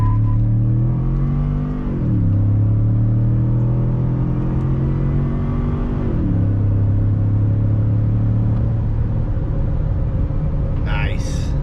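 A Ford F150 with a 3.5 EcoBoost engine accelerates hard in sport mode, its engine note climbing through loud rising pulls with two gear shifts, heard from inside the cab with a voice over it.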